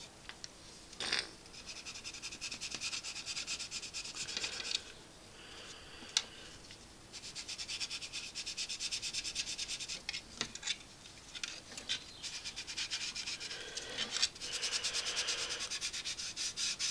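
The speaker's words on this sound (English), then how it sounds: "Underneath, that's alright, I'll just sand it down." Someone sands the plastic fuselage of an Airfix 1/72 Dornier Do 17Z model with quiet, close rubbing strokes that run in bursts with short pauses.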